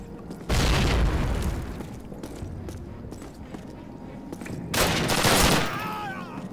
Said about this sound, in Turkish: Bence buradan böyle bir bomba sallarsam güzel olur.